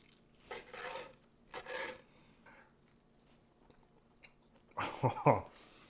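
Chewing on a bite of prime rib roast, with a few soft, close mouth and chewing noises and a louder crunchy burst near the end, all faint and quiet.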